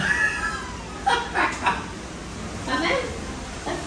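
A sad house cat meows several times in short bursts, fairly close, while someone talks in Portuguese over it.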